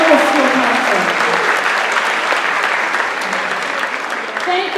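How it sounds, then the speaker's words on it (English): Sustained applause from an audience at a school choir performance, honoring the school administration; steady dense clapping throughout with some voices and cheers mixed in. "Let's give a round of applause for our administration."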